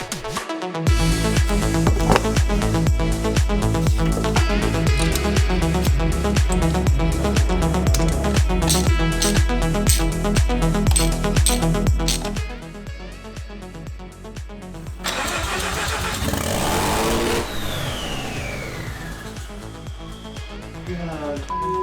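A Mazda RX-7 FC3S rotary engine cranks and fires up loudly, a rapid rhythmic pulsing that settles into a rough, steady idle with a rising whine, close and alone.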